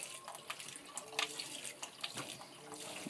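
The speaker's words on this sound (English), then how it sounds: "Got the water system, foot pump here." Water runs from a simple foot-operated double-throw pump into the sink of a small camper, a steady close splashing trickle with a few brief knocks and spurts, no voices.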